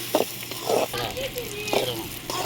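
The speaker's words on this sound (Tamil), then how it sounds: "வெங்காயத்தை போட்டுட்டு நல்லா வதக்கிக்கோங்க இப்படி" Onions sautéing in hot oil for village-style egg podimas, a light crackling sizzle with a few louder stirring scrapes, heard close up over about two seconds.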